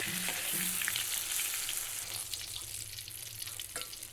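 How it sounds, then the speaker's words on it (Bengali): Eggplant pieces frying in mustard oil in a wok, a steady loud sizzle with occasional spatters and faint stirring knocks throughout. "এদিকে কড়াইয়ে একটু সর্ষের তেল দিয়েছি বেগুনগুলো হালকা ভেজে নেব"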